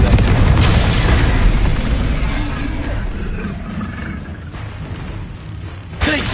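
A fiery spell blast in a fantasy action game: a loud, close explosion that decays into a long rumbling tail, then a second sharp burst near the end.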